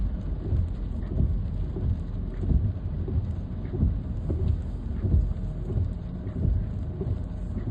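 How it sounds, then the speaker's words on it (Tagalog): Steady rain patters continuously under a low rumbling, muffled backdrop while driving on a road near FEU Alabang, moderately loud with no voices present. "Ulan pa rin mga kabiyahe."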